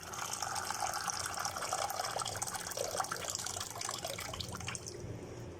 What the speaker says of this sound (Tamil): இப்போ தண்ணி ட்ரெயின் பண்ணிவிட்டு காட்டுறேன்.